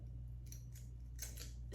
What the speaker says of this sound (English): So I'm gonna cut the lace here just down the middle.